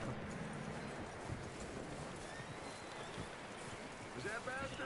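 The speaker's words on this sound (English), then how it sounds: "That looks like a decent horse." A horse's hooves clip-clop steadily in the video game Red Dead Redemption 2 on PS4, with a dense outdoor ambience of rustling and low rumble in the background.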